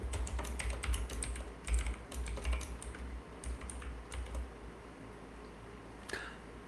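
Steady typing on a computer keyboard at a command line in the nano editor, close and fairly clear, with irregular bursts of key clicks that thin out toward the end.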